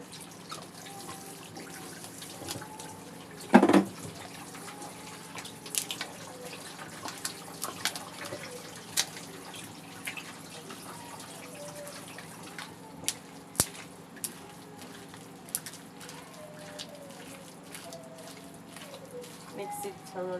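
Grated cassava is being mixed by hand with a little warm water, giving quiet wet squelching, sloshing and occasional drips at close range that are soft and irregular throughout.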